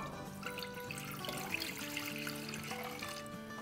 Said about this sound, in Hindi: इसमें हम डालेंगे 2 कप पानी।